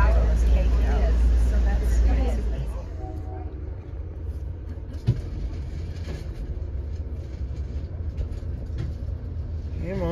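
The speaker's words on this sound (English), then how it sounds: "here comes Amtrak's westbound Zephyr" Amtrak's westbound California Zephyr passenger train arriving at a station, a low continuous rumble that opens loudly and then settles into a steady mid-level drone, with a faint clank partway through.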